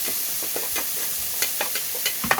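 Garlic, ginger and onion sizzling in reused frying oil left from frying milkfish, a steady close hiss with a spatula scraping and stirring in light irregular strokes.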